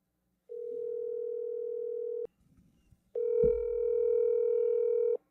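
A steady telephone dial tone sounds alone and close while a call to a friend is placed, breaking off for a short gap with faint clicks before the tone returns just as loud.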